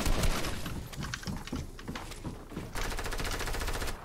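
Rapid bursts of automatic gunfire ring out in a multiplayer shooter video game, fast rhythmic volleys firing at opposing teamers, fairly quiet and continuous, with a dense stuttering run near the end.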